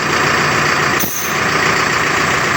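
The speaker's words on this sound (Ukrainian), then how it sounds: "Бо насос чути, що круте, поняв?" A hydraulic pump running on a Mercedes-Benz Atego 1317 dump truck, a loud steady mechanical whine over the diesel engine, close and continuous, with a brief dip around the one-second mark.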